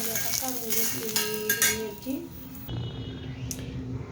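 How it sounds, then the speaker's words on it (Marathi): Green chilies roast in a pan on the stove, giving a light sizzle with utensil clinks and stirring scrapes up close, while someone speaks over the cooking. "आता हिरवी मिरची भाजून घ्यायची छान अशी"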